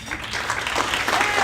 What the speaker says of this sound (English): we can clap anyway